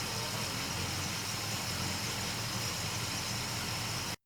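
Engine idling on a carburetor with a poor idle air-fuel ratio, holding a steady, dense, rumbling drone close to the microphone before it cuts off abruptly, with no talking.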